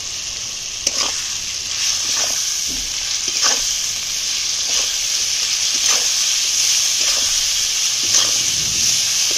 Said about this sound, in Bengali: এবার ভালো করে এটাকে কষাতে হবে।